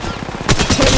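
Rapid automatic gunfire from the mobile battle royale game Apex Legends Mobile rattles in a loud, dense burst of closely spaced shots, growing heavier in the second half of a very short moment.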